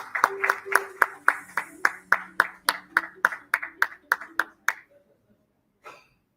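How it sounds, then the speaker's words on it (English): Applause for the speakers after a panel discussion comes as a steady run of about sixteen crisp, evenly spaced claps that stop abruptly, followed by a short faint rustle. "Let's have a round of applause for our speakers for this amazing discussion."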